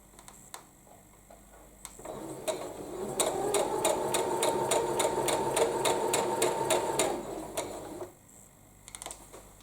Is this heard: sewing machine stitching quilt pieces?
yes